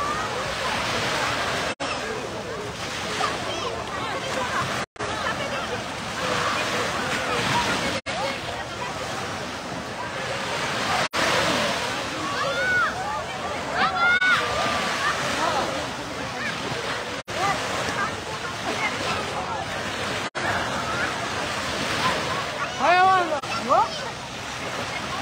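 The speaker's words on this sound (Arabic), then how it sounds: "لا صوت يعلو على صوت البحر" Sea waves wash steadily along the coast of Martil in summer, a continuous broad surf roar mixed with wind buffeting, with faint voices and the occasional whistle-like call in the background.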